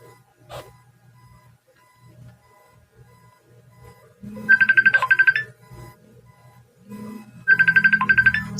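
A phone's ringtone for an incoming call, two bright repeating bursts of rapid electronic trills separated by a pause, loud and close, with faint background murmur between them.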